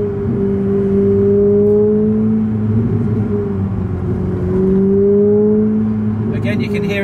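A Ferrari 488 Pista with an upgraded race exhaust booms low and steady while cruising at low speed, droning through the whole stretch with a slight rise and fall.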